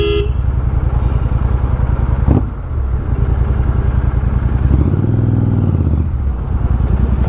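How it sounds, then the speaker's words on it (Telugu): A Royal Enfield Super Meteor 650 parallel-twin fitted with a Red Rooster exhaust idles close by with a steady, even, throaty beat, broken by a brief sharp blip and a rise in throttle partway through. "ఫైరింగ్ మాత్రం ఎగ్జాక్ట్లీ పర్ఫెక్ట్గా ఫైర్ అవుతుంది బండి మాత్రం"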